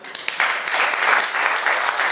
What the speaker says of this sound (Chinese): 给他掌声一下